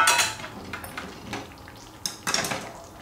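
Close clinks and scrapes of a utensil in a pan as roasted peanut powder is mixed into a Maharashtrian methi pithla, several sharp metallic taps over a quiet background.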